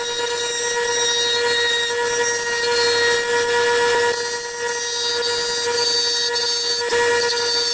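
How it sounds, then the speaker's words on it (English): A wood lathe spins a pink Alumilite pen blank while a carbide tool cuts it, producing a steady, even whine with a faint scraping texture that continues unbroken throughout. "It's my first experience turning Alumilite with the carbide tool."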